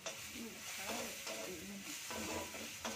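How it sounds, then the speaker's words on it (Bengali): A spice mix of turmeric, chili powder and mixed masala fries in a pan. It gives a faint, steady sizzle, and stirring scrapes come through at intervals. "ওটা ভালো মশলাটা ভাজা হয়েছে"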